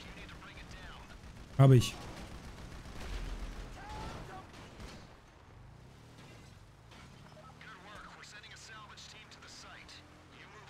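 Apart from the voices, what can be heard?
gunfire in video game GTA V Online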